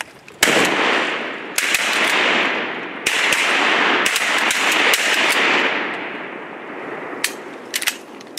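Shotgun shots fired at ducks during a duck hunt in northeast Alabama, several sharp close blasts spaced a second or so apart, each trailing into an outdoor echo, with no talk.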